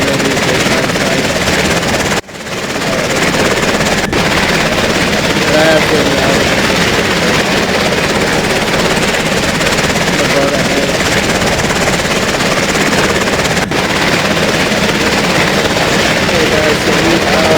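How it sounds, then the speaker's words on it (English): Helicopter in the EmergeNYC emergency-response video game, a loud, constant rotor and engine drone that runs through the whole stretch, with someone talking briefly over it. "so here's our other helicopter"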